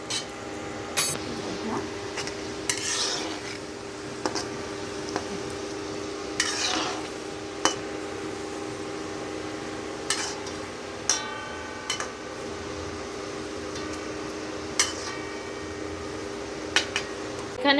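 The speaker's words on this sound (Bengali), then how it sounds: "তো আমি সব গজাগুলোকে ভেজে নিই।" Gaja sweets deep frying in oil: a low, steady sizzle runs throughout, broken by sharp metallic clinks and scrapes of a utensil against the pan at irregular intervals. Everything is close by and no one talks.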